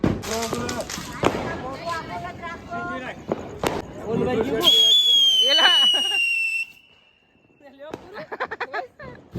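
Firecrackers exploding during a Diwali ingoriya battle: rapid sharp bangs and crackles under excited shouting, then a long rising whistle and hiss, followed by more scattered pops amid voices.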